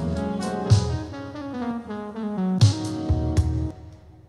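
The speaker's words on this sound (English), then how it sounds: "we're taking the synth line and we pitched it up to the original key" A slowed synth line, pitched back up to its original key and played at 90% tempo, carries sustained chords with a few stronger accented hits, playing alone without voices before fading out at the end.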